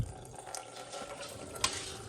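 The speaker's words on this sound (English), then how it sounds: "and then turn on the tap." A tap runs steadily after a reverse osmosis water filter install, giving a soft, continuous hiss of water flowing into a sink with no talk.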